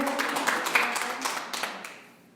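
A church congregation applauds during a Spanish-language sermon, with steady clapping from many hands that thins out and fades over a couple of seconds.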